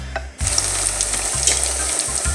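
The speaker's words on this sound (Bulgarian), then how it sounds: "Топкаме пътладжана в нея и оттам в олиото, в горещия тиган." Eggplant slices dipped in a thin flour-and-water batter are dropped into hot oil in a pan, setting off a loud, close, steady sizzle with a couple of brief dips and bursts.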